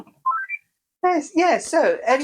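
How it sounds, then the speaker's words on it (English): A mobile phone gives a short rising chirp of a few quick tones, followed by a person speaking nearby. "That's my phone doing its thing."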